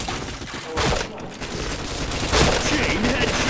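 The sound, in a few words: gunfire in a video game shooter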